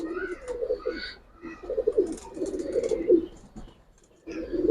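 Pigeons coo repeatedly in soft, throaty bursts with short pauses between, fairly close, with faint voices in the background.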